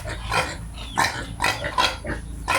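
Pigs, including pregnant native sows, grunt repeatedly in a farm pen, with several loud, rough grunts coming in irregular bursts close to the microphone.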